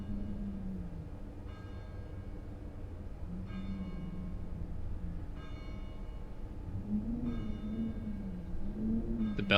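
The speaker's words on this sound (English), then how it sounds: "The bells are ringing." Bells ring in repeated bursts over a steady low drone and ambient music in the video game Getting Over It, the clangs recurring every couple of seconds at moderate loudness.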